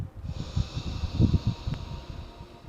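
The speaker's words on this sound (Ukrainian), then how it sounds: "вдих через ніс живіт округлюється" Someone takes a slow, audible breath in through the nose during a yoga breathing exercise. A soft airy hiss runs beneath low, pulsing breath noise for a couple of seconds, close and fairly clear.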